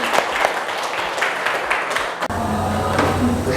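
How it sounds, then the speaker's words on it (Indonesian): Classroom applause from students praising a correct answer; brisk clapping for about two seconds, fairly loud, then it cuts off abruptly to quieter room sound with a faint tone. "Tepuk tangan."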